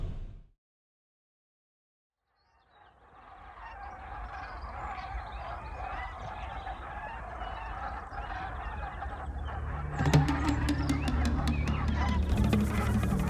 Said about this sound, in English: The geese had already decided it was spring.